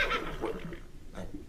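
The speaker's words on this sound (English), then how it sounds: "Oh, look, Junior, a seahorse." A horse-like neigh attributed to a seahorse in an animated underwater scene, a breathy whinny with a rising and falling pitch, fairly faint and alone.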